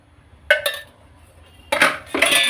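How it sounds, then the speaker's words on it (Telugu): A metal kadai is set on a home stove while preparing Sunday-special biryani, giving a couple of sharp clanks followed by a longer run of bright metallic clattering, close and fairly loud, with no talking. "మీద బాండి పెట్టుకొని నూనె వేసుకోవాలి"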